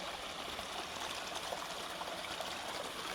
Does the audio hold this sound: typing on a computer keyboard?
no